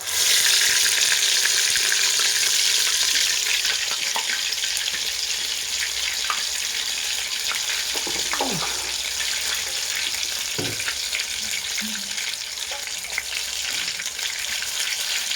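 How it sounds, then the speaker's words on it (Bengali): Pumpkin flower fritters frying in hot oil in a wok, a steady broadband sizzle that holds loud and even throughout, with a few faint clinks and bubbling pops near the end. "কড়াইয়ের তেলে ছেড়ে দেবো"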